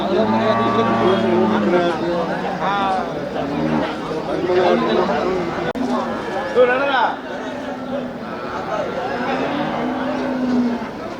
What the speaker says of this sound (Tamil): நாட்டு மாடு தான் நாட்டு மாடு